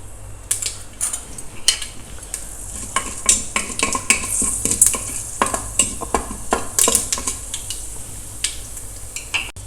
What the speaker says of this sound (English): when the mustard splutters and the dals are brown